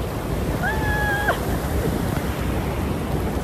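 Rushing water at the top of a waterfall, a dense steady roar close to the listener, with a brief whistle-like tone cutting through early on.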